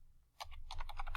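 A computer keyboard clicks rapidly as numbers are entered while drafting in AutoCAD. The burst of close, crisp keystrokes lasts about a second.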